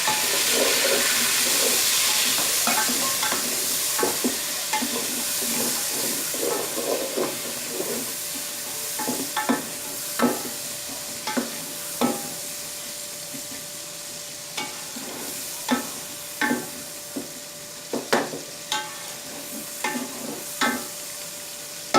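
Chopped tomatoes fry with browned onions for a desi chicken curry, a steady sizzle and hiss broken by repeated spoon scrapes and taps against the pan.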